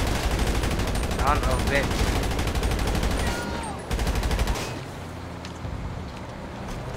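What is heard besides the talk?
gunfire shooting at armored vehicles in GTA 5 video game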